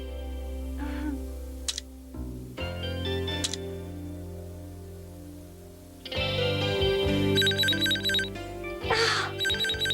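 A telephone rings indoors with repeated bright trilling bell bursts, loud and close, set against a background musical bed with no talking over it.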